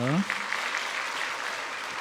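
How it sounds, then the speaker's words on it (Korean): A church congregation applauds during a Korean Sunday worship service, a brief voice giving way to steady, fairly distant clapping. "우리 다시 한번 박수로 격려합니다."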